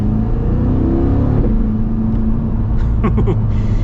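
A 2026 Chevrolet Corvette engine drones steadily from inside the cabin while accelerating, with a continuous low rumble and some road whir, no talking.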